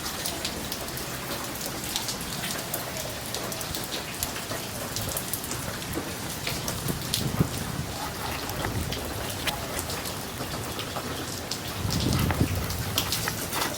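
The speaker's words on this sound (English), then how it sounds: "it's raining again." Heavy rain pours down on a vegetable garden of tomatoes and peppers, a dense continuous hiss of drops hitting the ground and leaves, with a low rumble swelling near the end.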